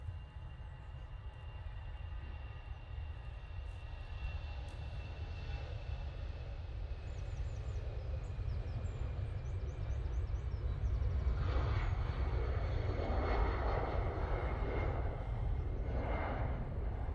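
An EasyJet airliner taking off at Manchester Airport under a low cloud base, heard as a steady, distant low engine rumble that swells gradually and grows louder toward the end.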